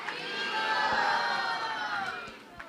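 A large crowd at a Narasimha Caturdasi gathering shouts and cheers Haribol together in one sustained, loud, reverberant swell of many voices.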